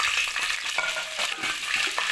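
Whole fennel seeds, cardamom and cloves sizzle in hot oil as a tempering for jaggery rice, giving a dense, steady crackling fry with small pops and stirring, close and without talk.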